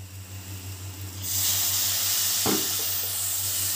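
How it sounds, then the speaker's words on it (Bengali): Spices with Kashmiri chilli powder and salt are sautéed in oil for a Bengali prawn and ash gourd ghonto. A quiet hum swells into a loud steady hiss, with one brief scrape of stirring. "মশলাটাকে ভালো করে কষিয়ে নেব"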